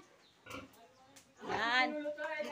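Pigs grunt and squeal nearby, a short snort followed by a longer, louder squealing call, with some voices mixed in.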